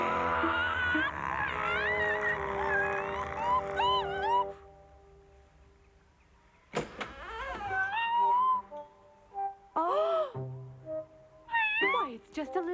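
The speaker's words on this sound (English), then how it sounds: "Why, it's just a little kitten." A little cartoon kitten gives a series of high, wavering meows, with pauses between cries and a brief spoken exclamation among them.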